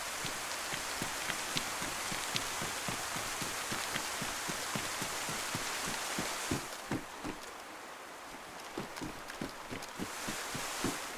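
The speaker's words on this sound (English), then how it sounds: "Today it's been raining, just to confirm my title." Heavy rain pours down in the DayZ Livonia survival game, a steady broadband hiss running the full length with a dense patter of close, sharp drop and footstep-like thuds over it, briefly thinning in the middle before returning.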